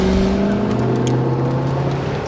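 A Shelby Super Snake, an American-made car, runs with a steady, loud engine drone and a low rumbling tone throughout, with no talk over it.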